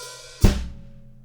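Snare drum and bass drum struck together once with a hi-hat, a single loud close hit that decays over about a second after a quieter ringing lead-in, no voices.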